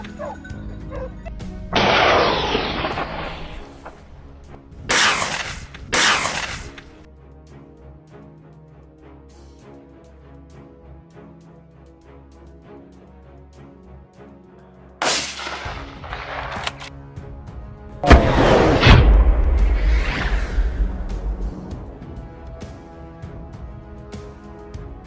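Loud gunshots ring out during a wild boar hunt on a Florida farm, a few sharp blasts in quick pairs with quiet gaps between them, then a longer burst of noisy commotion near the end.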